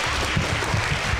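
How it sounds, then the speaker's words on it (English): An elementary school concert audience claps steadily in a dense, continuous wash of applause, even and sustained without any voices standing out. "give a round of applause for Vanessa."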